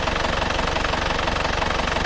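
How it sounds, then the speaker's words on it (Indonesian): An Isuzu Panther diesel engine idles just after a cold start, a loud steady rhythmic knocking clatter close by, with no talk over it. "Padahal ini mesin baru saja hidup."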